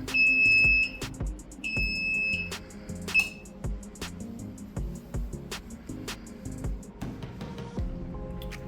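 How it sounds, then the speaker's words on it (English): An alarm panel sounds a shrill, piercing electronic tone in short repeated bursts, close and loud over faint background music, then falls quiet. "our alarm panel goes off."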